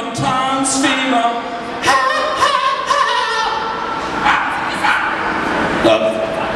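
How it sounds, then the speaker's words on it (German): A dog barks, yips and whimpers along with a children's dance song, its short bursts repeating through the music while a singer keeps going. "Da singt sogar der Hund mit dahin."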